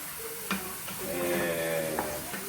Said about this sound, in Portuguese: A gente cozinha ele panela aberta e a gente vai sempre mexendo